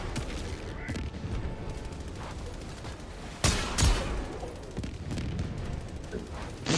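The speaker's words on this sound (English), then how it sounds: "He starts shooting at us while we're stacked up" Gunfire and distant blasts in a snowy Helldivers 2 battle, fairly faint and continuous, with a louder burst midway and players talking over it.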